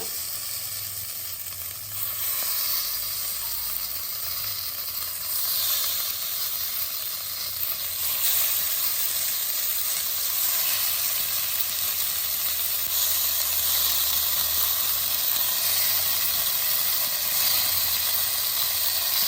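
Chicken tikka sizzles in a very hot AMC Navigenio pan, a steady, fairly loud hiss that swells a little after the first couple of seconds and holds on without interruption.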